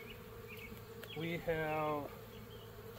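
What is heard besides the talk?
honey bees buzzing in a bee yard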